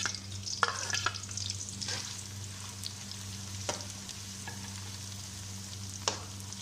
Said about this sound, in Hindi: अब इसके अंदर हम पहले प्याज डालेंगे, प्याज को फ्राई करेंगे।